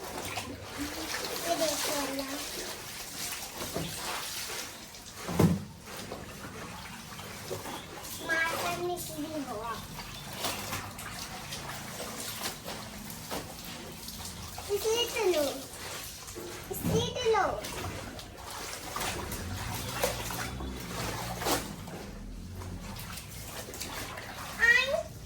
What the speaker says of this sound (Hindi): यहाँ पर पानी गिर रहा है।